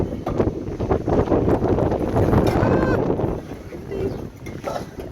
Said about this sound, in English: we're going to the wind again, so it might be quite noisy